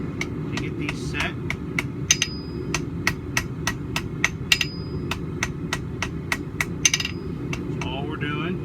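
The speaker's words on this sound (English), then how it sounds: "we're just going to do some tapping here to get these set" A hammer taps steadily to set forge welds on a fluxed back scratcher billet at welding heat, a rapid even series of sharp metallic strikes close up over a low roaring forge, with occasional ringing tones.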